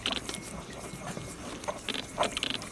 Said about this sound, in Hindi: ये देखो, इसमें पानी डालकर इसको ऐसे रगड़ाई करनी है।